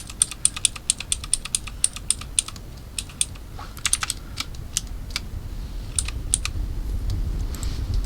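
Computer keyboard keys pressed repeatedly during 3D sculpting for a VRChat body base, quick close clicks in bursts, mostly the same key over and over, with a low rumble building toward the end and no talking.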